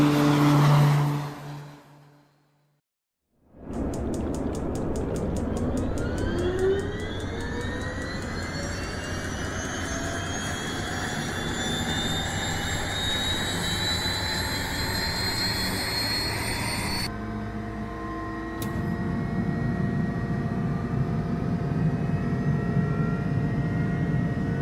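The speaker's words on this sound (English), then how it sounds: "enjoy the sounds of the turbine version of this aircraft" The turbine-powered Black Square Duke in Microsoft Flight Simulator: a short lull, then the engine spools up into a loud, high whine that keeps rising in pitch, before settling into a lower, rougher steady roar.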